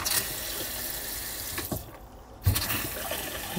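Water running from a newly installed Phoenix Faucets hybrid bathroom faucet in a 2010 Forest River RV, a steady hiss of flow with small splashy bursts, close and alone without talk.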